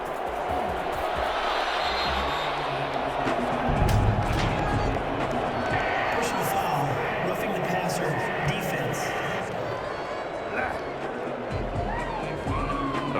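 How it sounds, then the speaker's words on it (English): A video game football stadium crowd in Madden 21 on PS5 keeps up a loud, continuous roar of displeasure after a penalty call, with a commentator's voice running over it. "This crowd does not like that call. Understandable reaction from them."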